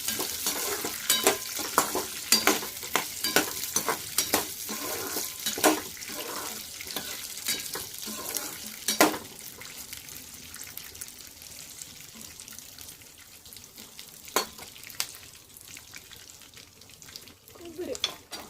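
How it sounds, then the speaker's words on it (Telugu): Chopped pieces frying in a pan for hotel-style Mysore bonda, with busy crackling sizzle and repeated rhythmic scraping of a spoon while stirring, loud at first and settling softer later. "కలుపుకోండి. పలుకులు కొంచెం వేగాలి."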